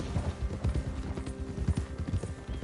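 Horse hooves clip-clopping in a PS4 video game, a steady close rhythm of hollow knocking steps at walking pace, clear and continuous, with no talking.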